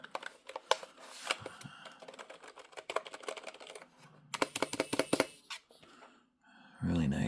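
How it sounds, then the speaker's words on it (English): Rapid clicking keystrokes on a Redragon Volcano K526 Pro wireless RGB gaming keyboard, close and crisp, in uneven bursts with brief pauses, ending in a louder rustling handling sound. "Really nice mechanical keyboard."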